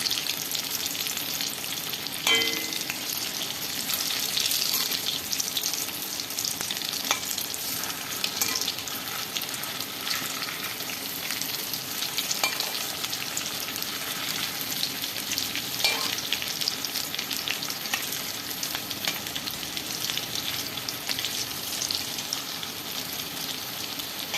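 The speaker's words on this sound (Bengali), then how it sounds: "আর আমি মিডিয়াম আঁচে ভাজছি" A steady, dense bubbling sizzle of coconut prawn pakoras deep frying in oil over medium heat continues throughout, with occasional light clicks and no voices.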